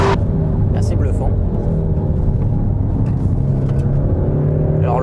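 A 2016 Peugeot 308 GTi by Peugeot Sport on a race circuit, its engine droning steadily and loudly throughout, with rising whines suggesting acceleration, heard from inside the car.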